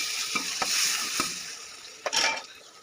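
Onion and tomato hit hot oil in a wok-style kadhai already holding cumin, mustard seeds and ginger-garlic paste for misal, sizzling loudly with a few sharp stirring scrapes of a spoon against the pan.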